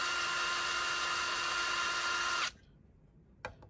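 A power tool whirs loudly and steadily for over two seconds while bolts are removed from a cinch loom buckle holder, then cuts off abruptly, followed by a single faint metallic clack.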